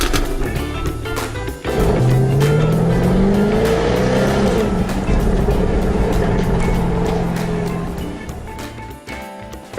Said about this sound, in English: Let's drive Jaguar's latest, and definitely most interesting, the 2014 F-Type V8S